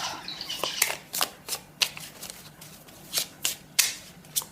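A deck of cards being shuffled by hand, a series of crisp riffling bursts in an uneven rhythm, close and fairly loud with no voices.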